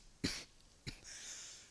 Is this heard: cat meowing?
no